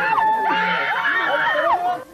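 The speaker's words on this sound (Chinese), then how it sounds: "歌迷站在布条里面，朝着玻璃窗拼命的挥手尖叫" Japanese fans packed outside a Tokyo recording studio window scream excitedly for a visiting Taiwanese boy band, a shrill continuous crowd outcry with rising and falling wails close by; no distinct pounding on the glass stands out.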